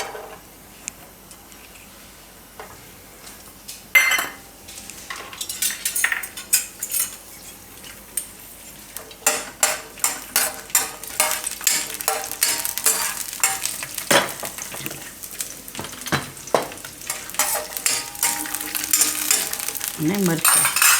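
Garlic dropped into about two spoonfuls of hot oil in a pan, frying with a soft sizzle while a metal spoon clinks and scrapes against the pan in irregular bursts, growing busier and louder as stirring continues.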